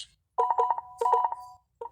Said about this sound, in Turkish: Bildirim.